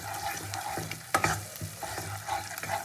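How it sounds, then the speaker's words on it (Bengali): Spice paste with salt and turmeric sizzling in a pan while stirred, loosened with a splash of the water used to rinse the grinding stone; a soft, continuous frying hiss with irregular scraping strokes of the spoon, fairly quiet and close. "নুন হলুদ খুব ভালো করে মশলাটা কষিয়ে নেব।"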